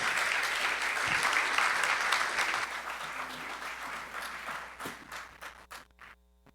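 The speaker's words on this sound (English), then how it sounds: "So please welcome him to the stage. Give him a big round of applause." Audience applause greets a speaker taking the stage at a NXT GEN talk, a dense steady wash of clapping that thins and breaks into scattered final claps before fading to quiet.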